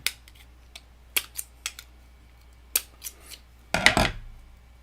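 Strong scissors snip through electronic component leads while a Larson scanner kit is built, a series of sharp isolated clicks spaced irregularly, ending in a louder cluster of close snips.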